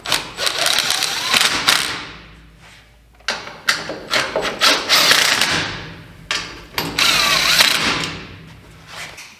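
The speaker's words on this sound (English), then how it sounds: "This is just a 1/4 inch impact," A 1/4 inch impact driver runs in repeated loud bursts, hammering trailer coupler bolts snug on a dump trailer, with short gaps and clanks between each run.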